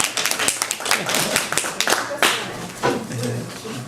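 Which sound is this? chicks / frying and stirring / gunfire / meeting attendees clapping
meeting attendees clapping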